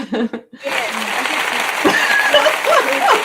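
Audience clapping at an on-stage event, a dense, sustained burst of applause rising after a short break, mixed with laughter and chatter in the room.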